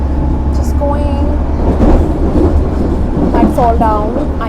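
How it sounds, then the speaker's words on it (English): A London train ride near Liverpool Street: a loud, steady low rumble of the moving carriage with a voice talking over it throughout. "I came running into this train because I was leaving."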